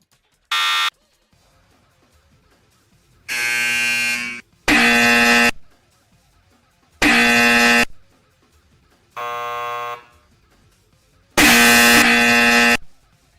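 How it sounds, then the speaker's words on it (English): A loud, harsh incorrect-answer buzzer sound effect for a game project, played six times as flat, rasping electronic blasts of about one second each, separated by short silences, with no talking. "I hate these people that make extremely loud, incorrect buzzers."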